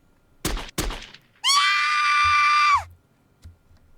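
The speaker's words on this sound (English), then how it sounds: "I heard a dry explosion in the distance, followed by a lady screaming." Distant gunshot followed by a woman's sustained scream in the visual novel CHAOS;HEAD NOAH: two sharp dry cracks, then a loud, piercing, steady cry lasting over a second before cutting off, with faint thuds after.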